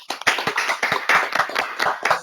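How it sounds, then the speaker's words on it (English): Live audience applauding award winners during a podcast recording, a short burst of clapping from a small crowd, fairly close and steady for about two seconds. "Should we all give them a round of applause?"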